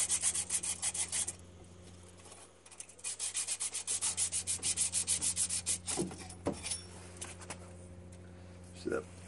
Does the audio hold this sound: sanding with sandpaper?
yes